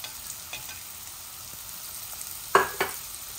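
Onions and mutton frying in a pan for a potato curry, a soft steady sizzle with a few sharp scraping clicks from stirring, faint and close.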